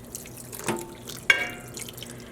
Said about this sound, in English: add the remaining water from our initial 8 cups of water with 3 tablespoons of white vinegar